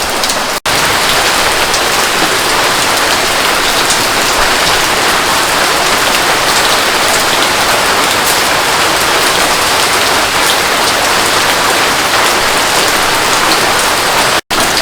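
Heavy rain pours steadily outside in Kerala during the monsoon, a loud, dense, continuous hiss of drops striking surfaces that runs unbroken through the whole stretch with no voices.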